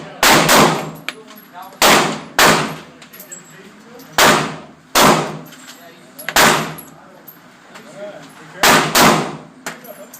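A Ruger LC9 pistol fires at a gun range: about eight loud, sharp, close shots in irregular pairs and singles, each with a quick ringing decay.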